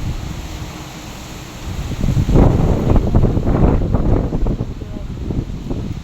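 Strong wind roars and buffets the microphone in loud, gusty surges, rising noticeably partway through and staying rough to the end.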